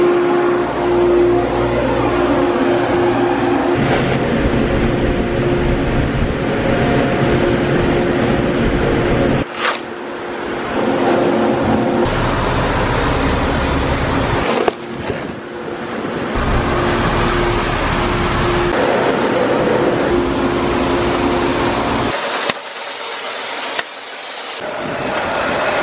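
An X9 combine harvester works through a field of corn, its loud engine and threshing drone holding steady at close range. The roar dips and shifts a few times and falls away near the end, and nobody speaks.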